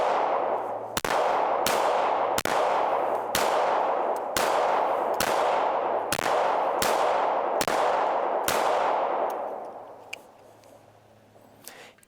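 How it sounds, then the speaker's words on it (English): An HK CC9 micro-compact pistol is fired rapidly in a fast string of about a dozen loud, close reports, the echoes running together before the shooting stops and the sound fades. "Even when I'm shooting really fast like that"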